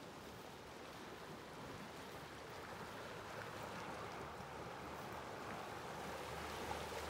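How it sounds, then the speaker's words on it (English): A river flows steadily beside a campsite, a continuous broadband rush of moving water at low level with no voices over it. "I'm just here by the river."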